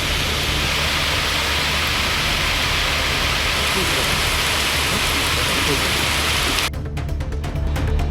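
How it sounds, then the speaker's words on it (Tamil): Heavy continuous rain in Gudalur, India, pouring steadily as a loud dense wash of noise that thins slightly near the end. "அதனை ஒட்டியுள்ள கூடலூரில் தொடர்ந்து மழை பெய்து வருகிறது"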